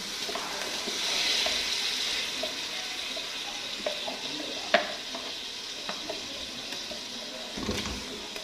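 Water is poured into a pot of beef paya, a trotter stew, with a steady hiss and sizzle of liquid hitting the hot cooking pot. A few light clinks and taps from stirring follow, and no one speaks.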